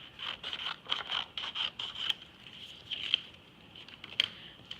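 Scissors snip a small triangular fin out of paper for a woven paper fish craft, a series of quiet, close, crisp cuts in quick bursts with short pauses between them.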